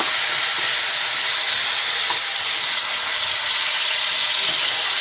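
Peeled, cut tomato goes into a hot pan for a basil ragù, giving a steady, loud, even sizzle and hiss that holds for several seconds without voices.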